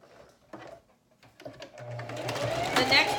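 A sewing machine runs a second line of stitching on a fabric makeup bag, starting with a few taps and short bursts that become a steady, fast whirring near the end. People talk over it.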